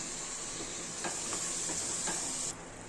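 Ginger garlic paste and tomatoes sautéing in a pan for hotel-style channa masala, with a steady bright sizzle throughout and several soft stirring scrapes, close and continuous until the hiss suddenly drops near the end.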